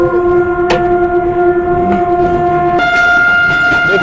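A train nearing Tando Jam railway station on the Thar Desert route from Karachi toward the Indian border, with loud sustained horn-like tones over a steady rail rumble that swells suddenly partway through.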